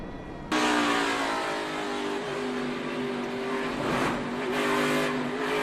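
NASCAR stock cars pile up in a chain-reaction crash on a dirt-strewn track: a sudden loud roar of engines and tire noise, then a couple of sharp bursts of contact.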